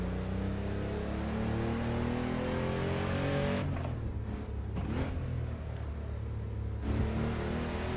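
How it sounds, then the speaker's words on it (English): Four-wheel drive car in a racing video game, engine revving and climbing through gears with sharp shift drops midway, a continuous close mechanical whine and rumble. "It's a fun car to drive on these tires, because even with the four-wheel drive"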